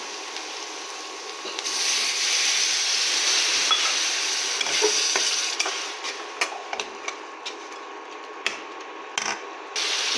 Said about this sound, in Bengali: এটাকে মশলার সঙ্গে ভালোভাবে কষিয়ে নেব। এতে একটু জল দেব।